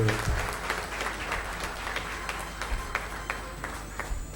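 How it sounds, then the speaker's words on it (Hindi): An audience at a youth honours ceremony in Sagar applauds with steady, fairly dense clapping that continues throughout, sounding like a crowd in a hall. "मैं सबसे निवेदन करूंगा कि एक बार जोरदार तालियों के साथ"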